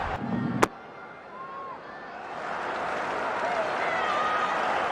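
A cricket crowd at a New Zealand versus India Test match murmurs and rumbles after a wicket falls, a steady broad hubbub that swells slightly after a sharp knock at the start.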